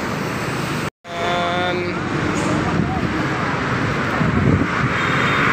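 A Rapi Prometheus coach pulls away from the Rapi agency ticket office in Palembang, bound for Medan, its engine and road noise steady and close amid wind, with people talking nearby.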